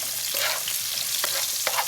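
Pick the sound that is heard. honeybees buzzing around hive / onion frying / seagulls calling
onion frying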